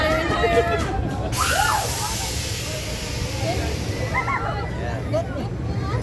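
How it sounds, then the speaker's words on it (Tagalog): Small sea waves washing and splashing around a boat, a steady hissing spray of water with loud wind-like rush, while people talk and call out over it. "Malilit pang alon."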